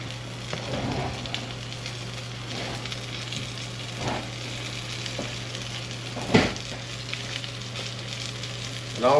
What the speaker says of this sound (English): all we're trying to do is just sear them on each side, get a nice good crisp on them